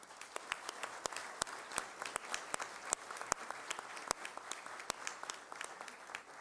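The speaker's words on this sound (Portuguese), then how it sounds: "por que não solicitar ainda mais uma vez uma calorosa salva de palmas aos nossos" Applause in a legislative assembly for Brazilian Expeditionary Force veterans, a fairly quiet crowd clapping steadily with distinct sharp individual claps standing out throughout.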